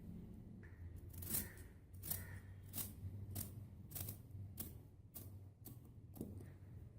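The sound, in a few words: scissors cutting fabric for a frock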